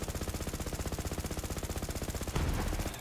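Rapid, evenly spaced pistol fire from a legendary pistol in the looter-shooter Borderlands 3. A long, steady stream of close, loud shots runs for about two seconds, then ends in a heavier blast with a rumbling tail.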